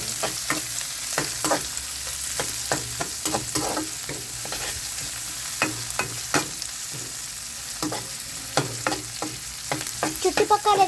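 A utensil stirs fried rice with capsicum, cabbage and coriander in a hot pan, giving repeated scraping and tossing clatters over a steady background sizzle, close and fairly even, with no voices.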